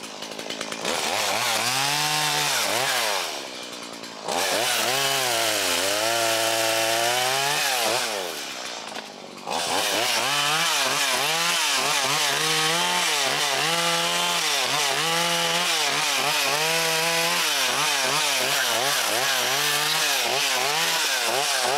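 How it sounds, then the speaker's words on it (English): A chainsaw limbing a felled black cherry tree in the woods, revving loud and close in repeated surges as it bites through branches, with two short pauses where the engine drops to idle. "I'm just gonna take the chainsaw now and limb this out, lighten the load a little bit"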